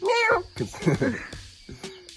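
A person imitates a kitten with a high, drawn-out meow, followed by a few softer, short mewing sounds.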